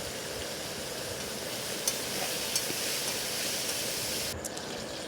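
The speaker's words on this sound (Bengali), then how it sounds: "তো আমি এদিকে বেগুনটা ভাজছি" Eggplant (brinjal) slices fry in a pan with a soft, steady sizzle and hiss, fairly quiet and close, with a couple of light utensil clicks.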